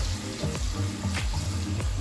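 Water trickled onto Dawn dish soap on a greasy part of a Homelite 26CS chainsaw, a close wet splashing and pouring with small irregular bursts and gurgles, no speech.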